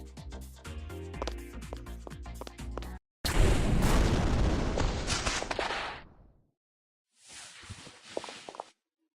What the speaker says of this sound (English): Never look back at explosions.